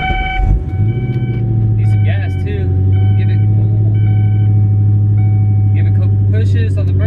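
A Foxbody Mustang engine idles steadily and loudly after being started, a low constant rumble with a few faint beeps while someone talks over it.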